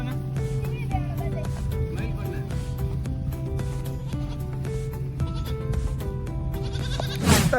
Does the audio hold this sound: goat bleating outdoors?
yes